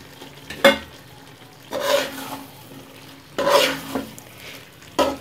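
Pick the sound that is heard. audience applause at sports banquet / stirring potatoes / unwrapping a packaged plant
stirring potatoes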